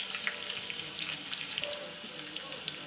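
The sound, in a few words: chillies frying in oil for dhokla tempering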